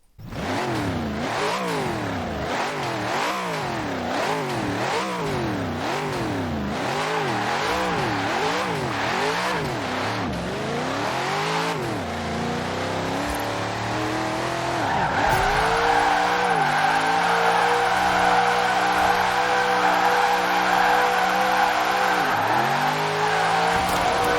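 A Plymouth Cuda 426 Hemi drift build in the video game Forza Horizon 4, its V8 engine revving up and down in repeated rhythmic swells while tires squeal continuously through a long drift, loud and close throughout.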